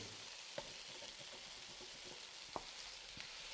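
Sliced plantain frying slowly in oil in a pan on the lowest flame, a faint, steady fine sizzle with a few soft clicks scattered through it, close but quiet.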